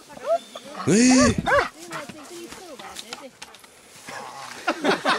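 A dog barks nearby in a short loud burst, then gives scattered smaller yips and whines while people talk over it.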